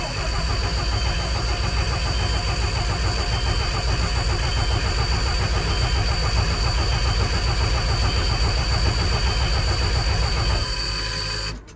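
Ford F700 dump truck with a 5.9 Cummins diesel running after a cold start at about 45 degrees, a loud steady rhythmic diesel clatter at close range that cuts off at the end.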